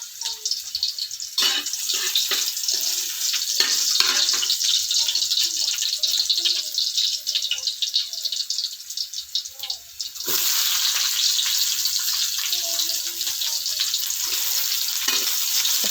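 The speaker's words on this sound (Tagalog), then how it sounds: "Mag-gisa na po tayo mga guys." Garlic sizzles in a well-used frying pan as it is sautéed for an ampalaya dish, with a steady, loud hiss, scraping stirs and a brief dip before the sizzle resumes.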